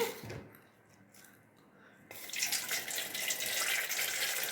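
Water poured into ragi flour while making upma: after a quiet stretch, a steady close-up pouring and running-water splash starts midway and continues to the end, with no talking.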